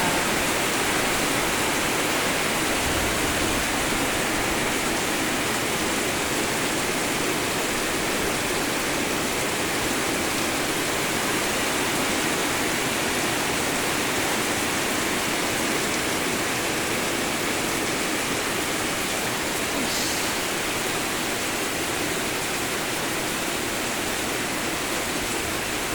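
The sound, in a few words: heavy rain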